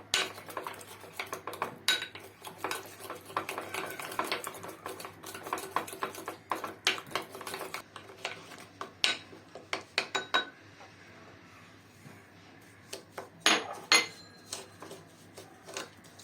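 A spoon clatters and scrapes rapidly in a bowl as sugar is stirred into tomato sauce ingredients, dense clicking bursts that thin to sparse taps.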